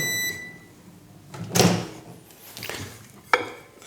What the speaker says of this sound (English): So I'm going to pop mine in the microwave, probably for about 15 seconds,